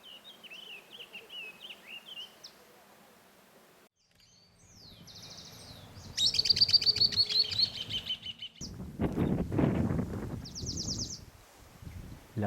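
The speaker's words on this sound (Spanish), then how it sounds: "Las aves cantan o emiten sonidos por distintas circunstancias" Birds sing and chirp in varied phrases, some trilled and buzzy, near and clear, with quieter rustling and a fuller burst of calls midway.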